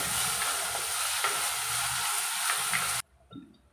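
Finely chopped large onion frying in a pan for dhaba-style chicken masala: a loud, steady sizzle with faint stirring for about three seconds, then it cuts off abruptly, leaving a quiet clink or two.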